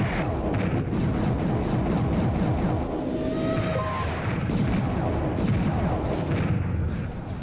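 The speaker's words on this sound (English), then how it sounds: "That's Steiner shooting at this guy." Steady, dense barrage of laser or cannon fire as a wingman shoots at an enemy in the space combat game StarLancer, continuous and loud throughout with rapid overlapping shots.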